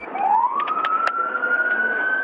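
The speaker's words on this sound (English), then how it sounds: "You can see other police cruisers with lights on and sirens blaring." A police cruiser siren wails steadily during an active-shooter response on the Las Vegas Strip, one long rising tone with brief chirps near the start, loud and close with no talk over it.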